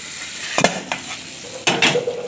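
Hot tempering is poured over green chillies for an Andhra-style chutney, setting off sudden sizzling bursts with light utensil clinks and stirring between them.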